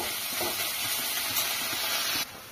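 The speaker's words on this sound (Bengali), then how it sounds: "নুন হলুদ দিয়ে এবার এটাকে একটু ভাজা ভাজা করব।" Heads sizzling in a pan with salt and turmeric, a steady close hiss of frying that runs evenly throughout and drops slightly in level near the end.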